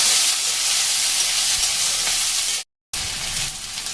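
Cumin seeds and chopped onion frying in a pan with cloves, a steady loud sizzle filling the clip, cut by a brief silent gap near the end before the sizzling resumes.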